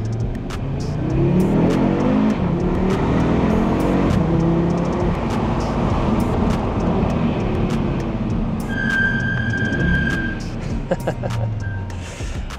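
Audi 8Y RS3 engine pulling hard, a dense sustained drone with rising pitch sweeps as it accelerates, heard from close by over road noise, with a brief higher tone late on.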